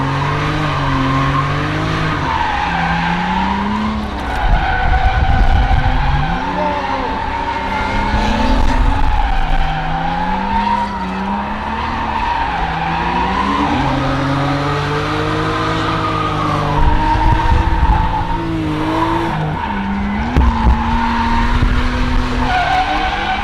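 BMW E90 328i with the N52 engine and an angle kit drifting, the engine revving up and down in loud waves as the tires squeal and skid continuously, close and without talk.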